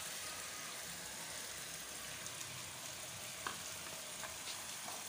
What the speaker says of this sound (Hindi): अब मैं इसमें दही डालने लगी हूँ।